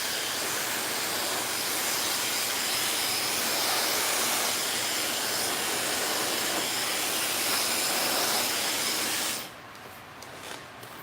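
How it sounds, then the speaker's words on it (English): A blow dryer roars steadily at close range while drying hair, a loud broadband whoosh holding for about nine seconds before cutting off abruptly into quiet. "Take my blow dryer."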